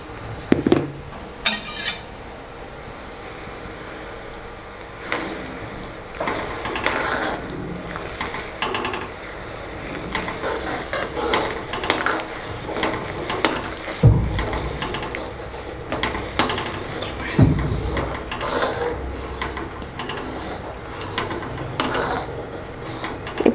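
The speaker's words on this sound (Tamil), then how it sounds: "இப்போ அடுத்த நம்ம இதில் 2 கப் ரவையை அப்படியே கொஞ்சம் கொஞ்சமாக சேர்த்து அப்படியே கலரி விட்டுட்டே இருக்கலாம்." Semolina (rava) is added to a pan and stirred for wheat upma, with a spoon scraping and clinking against the metal in irregular, close strokes and occasional louder knocks. There is no talking.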